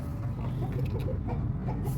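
Hens in a cage on a rooftop give faint, soft clucks at a distance against quiet background noise.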